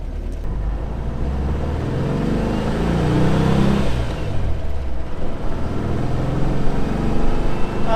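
A Porsche Speedster engine runs steadily after carburetor tuning and new plug wires, a loud, continuous rumble that swells slightly in the middle and holds at a smooth idle with no voices.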